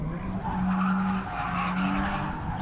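A car drifts around a race track on 16-inch Watanabe wheels, tires squealing in a sustained, wavering screech with engine roar underneath, steady and moderately near.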